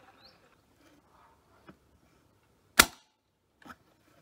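Valken V12 HPA airsoft M4 at 80 PSI firing 0.25 g BBs, two faint pops and one sharp, louder single shot, spaced apart against a quiet background.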